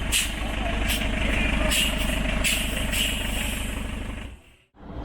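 A Hummer's small-displacement diesel engine runs outside a garage after years of sitting, giving a steady, close clattering rumble with faint higher hiss on top before it briefly drops away near the end.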